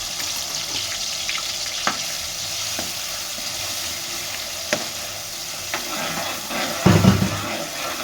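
Onion paste frying in a pan for fish curry, with a steady sizzle under repeated scraping stirs from a utensil and a louder clattering burst near the end; no talking.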